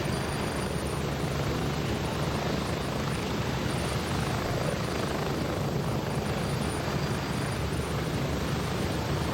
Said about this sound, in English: Don't miss the chopper.